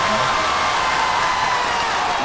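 Home crowd at a high school football game, Pioneer at Skyline, cheering after a touchdown, a steady loud roar of voices filling the whole stretch.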